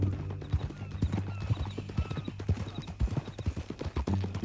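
Horse hooves clip-clop in an uneven, close trotting rhythm in Red Dead Redemption 2, with brief snorts and a faint whinny under quiet game ambience.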